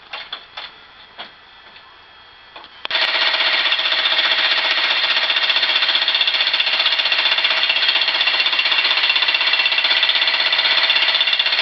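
A plumber's jackhammer pounds continuously after a brief quieter start, a loud, dense rapid hammering that holds steady to the end with no voices.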